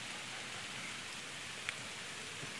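Steady rain falling in Quixeramobim, Brazil, a constant even hiss of drops on surfaces with no voices, soft and unbroken throughout.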